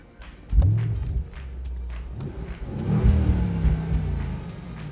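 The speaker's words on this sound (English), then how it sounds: "under the hood is a V8 engine, and it's turbocharged" A turbocharged V8 engine in a Mercedes AMG S63 Cabriolet rumbles low and steady, rising in a couple of throaty revs, moderately close, with no talking.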